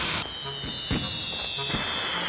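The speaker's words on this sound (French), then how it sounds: "Oups! Je viens d'allumer des fusées par accident!" Cartoon fireworks rockets lit by accident: a burst of hiss, then sharp whooshing launches and pops under a steady high whistle, fairly quiet with busy effects layered around.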